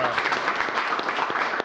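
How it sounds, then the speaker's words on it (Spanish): A crowd applauding at a Venezuela versus Ecuador football viewing, a short burst of dense clapping at steady loudness. "Otra vez, un aplauso, pues, vamos."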